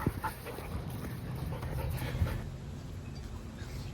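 A dog pants and whimpers close by in a steady, breathy rhythm over a low rumbling background, with faint soft whines mixed in.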